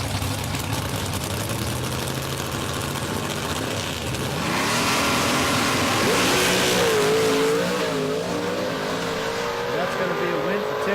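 Ford big block cars drag racing down the strip at a drag racing event, engines roaring loudly and building in pitch as they launch and run, with crowd and announcer-like voices mixed under the constant din.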